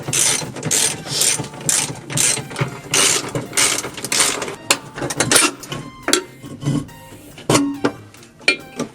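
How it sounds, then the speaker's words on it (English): A ratchet wrench clicks in rapid bursts while loosening the bolts that hold a cross member to the transmission mount during a T5-to-Tremec TKX swap. The dense metallic ratcheting is close and loud, pausing between strokes, with no talk. "We're going to start by unbolting it from the trans mount."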